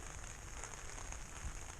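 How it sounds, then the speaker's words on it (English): Rain falls steadily on the roof of a 1973 VW camper, a soft, even patter with a few louder drops, heard from inside with no talk. "Well, it's been raining about an hour now."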